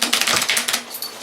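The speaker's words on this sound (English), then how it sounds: "So we'll give these a little bit of a shuffle" Playing cards riffled and shuffled at a tabletop board game night, a brisk burst of dense papery flutters and snaps, fairly close and moderately loud, trailing off into a quieter patter.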